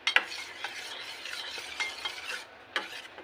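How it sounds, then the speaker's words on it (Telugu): Milk is stirred little by little into a thickening mixture for a bottle gourd milk curry, giving soft scraping strokes with a few sharp clicks of a spoon against the vessel, quiet and close, with no talk. "మొత్తం పాలు కొంచెంగా వేసుకుంటూ కలుపుకోవాలి"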